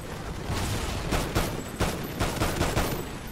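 Bursts of rapid gunfire in the Call of Duty Ghosts campaign, loud and continuous, with several heavier shots punctuating sustained automatic fire across a noisy battle scene.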